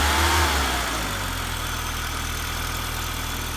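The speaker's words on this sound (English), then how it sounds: "Runs smooth. Doesn't sound broken whatsoever. No need to replace the engine." A 1989 Volkswagen Jetta engine idles steadily after repair, a close, even low rumble with a brief louder rev at the start, then settling into a smooth, continuous hum with no talk.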